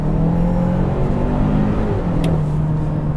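A 2021 Kia Sorento SX with a 2.5-litre turbo engine under way, heard from inside the cabin as a loud, steady low engine drone and road rumble that does not let up, with a faint whir above it.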